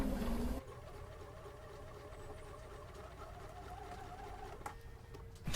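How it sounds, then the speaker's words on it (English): A sewing machine stitches a quarter-inch quilt seam with a steady, fairly quiet mechanical hum that runs continuously after a louder burst at the start, with no voices. "you should be sewing right through it as you sew your seam"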